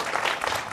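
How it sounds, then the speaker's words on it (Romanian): Audience applause for a band at a Romanian folk music television show, a steady, dense wash of clapping. "Vreau să-i și aplaudăm."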